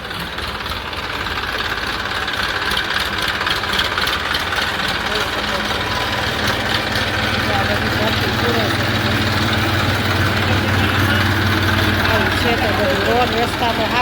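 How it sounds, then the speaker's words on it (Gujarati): A tractor engine idles and runs steadily on a waterlogged village street with potholed roads, its low heavy rumble and knocking continuous and fairly loud throughout, with voices talking over it. "ટ્રેક્ટર આવી ગયું છે."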